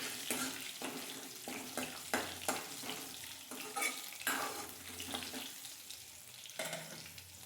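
Curry leaves and ginger fry in oil, a soft, sputtering sizzle broken by repeated stirring scrapes and bursts at an irregular rhythm. The sound is fairly quiet and close, with no talking.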